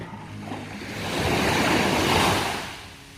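Surf washes onto the beach at Khlong Nin on Koh Lanta, Krabi, a broad wave rush that swells to a peak midway and then recedes, with light wind over the sea.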